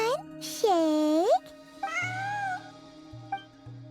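A cat meows several times in a video game, with long rising and falling cries near and clear, followed by shorter mews over a faint game background.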